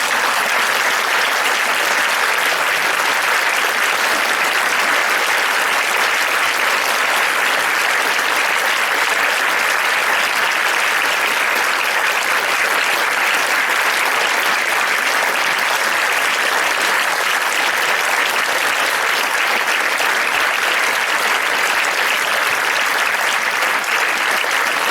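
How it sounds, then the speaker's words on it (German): Sustained, dense applause from a lecture audience after a talk in Vienna, loud and steady for the full stretch with no voices breaking through. "Es ist ein riesengroßer Applaus für diesen tollen Vortrag als Dankeschön."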